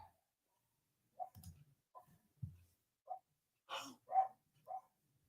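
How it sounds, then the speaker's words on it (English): A dog barks in the distance, several short faint yaps spaced irregularly with quiet gaps between them, no talk over them. "tis a dog barking in the distance."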